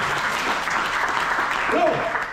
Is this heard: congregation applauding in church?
yes